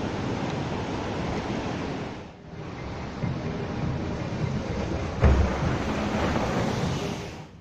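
Water rushing and churning on the Crazy River rapids ride at Walibi Holland, a steady, loud broadband wash that fills the whole stretch with a brief dip and a louder surge near the end, no voices.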